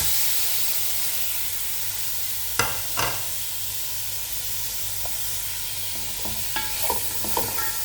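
Tomatoes fried and stirred with powdered spices for shrimp machboos, a steady hissing sizzle with a few sharp scraping stirs, close up and without voices.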